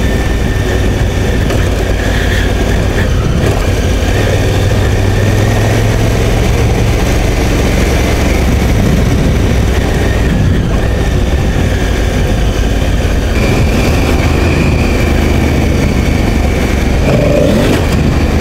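Honda Africa Twin adventure motorcycle ridden along Telegraph Road in the Otway Forest, Victoria, its engine droning steadily and loudly throughout with wind noise over the top and no talk.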